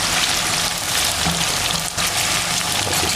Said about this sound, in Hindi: गोल्डन ब्राउन करने को थोड़ा सा फ्राई करना है 3-4 मिनट के लिए।